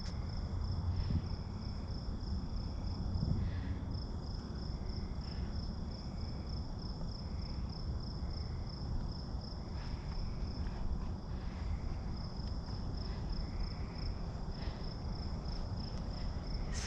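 Steady high-pitched cricket chirping fills a quiet night, continuous and even, with a faint low background hum and no voices.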